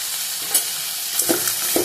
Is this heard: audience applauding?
no